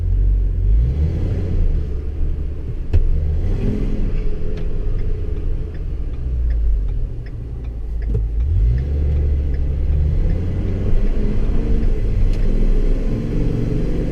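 A 2017 Ford F-650 truck accelerates uphill at full throttle, a deep heavy engine rumble droning steadily from inside the cab, with occasional faint ticks and gear-shift dips.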